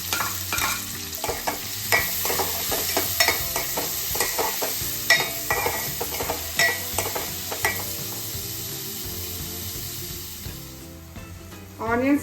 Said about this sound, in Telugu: ఇప్పుడు ఆనియన్ వేసుకుందాం.